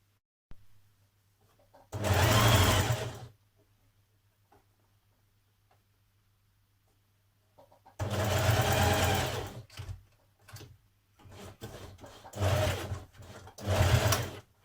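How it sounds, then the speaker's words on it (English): A sewing machine stitches a sweatshirt sleeve seam from the hem up under the arm on a Burda 6315 pattern, running in three separate bursts of steady whirring with quiet gaps between them, close by. "you're going to stitch from the bottom, matching this point here, reinforcing under the arm and all the way down the sleeve"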